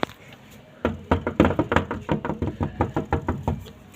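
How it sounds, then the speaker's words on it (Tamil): A rolled-up newspaper strikes a door in a rapid run of about fifteen sharp, close knocks in an uneven rhythm. "டேய் நியூஸ் பேப்பர் எடுத்து ஆங்கடா தட்டுங்கடா."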